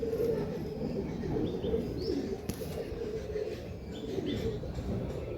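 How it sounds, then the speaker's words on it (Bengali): A Rampuri pigeon coos indoors in low, steady, throaty murmurs, with faint chirps and rustles over a constant background hum. "পায়রাটা খুবই ভালো কোয়ালিটি পায়রা"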